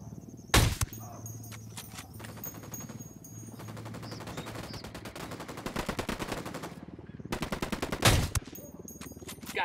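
Gunshots in the video game Ghost Recon Wildlands: two loud, close single cracks stand out at the start and near the end, with softer rapid fire and ambient game noise between them.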